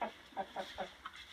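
Ameraucana chickens in a winter coop during a -20 F cold snap, giving a run of about five short, close clucks in quick uneven rhythm.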